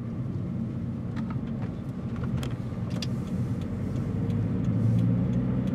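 A 2014 Subaru BRZ Limited engine idles and revs after an ECU change, a steady low rumble that swells slightly toward the end, with a few faint clicks.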